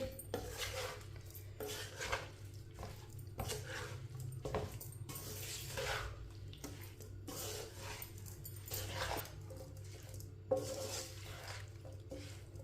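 Roasted spices being stirred into a homemade mixed pickle, a spoon scraping and clinking against the pot in a steady, repeated rhythm, close and fairly quiet with no talking.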